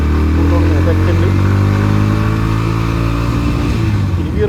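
A 2024 Bajaj NS160 motorcycle engine drones loud and close while being ridden, its note holding steady and climbing slightly under the rider, with a voice talking over the engine.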